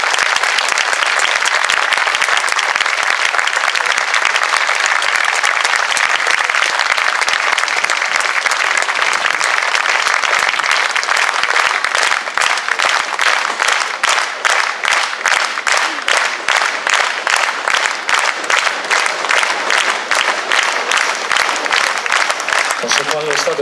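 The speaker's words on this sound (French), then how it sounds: "quand on entend des applaudissements nourris et spontanés, ça nous fait vraiment plaisir" Sustained, loud audience applause after a community orchestra concert in Alès, dense clapping that turns into rhythmic unison clapping in the second half before fading out.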